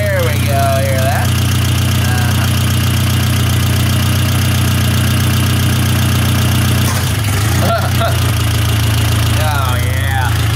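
A 1972 Toyota Celica engine idles steadily with a low, continuous hum during a carburetor idle screw adjustment, briefly dipping and stumbling near the end before recovering, with people talking faintly over it.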